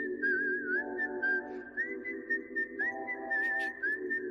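Long melodic whistling with rising and falling pitch slides, steady and fairly loud over a background of droning music, played during a sports talk show.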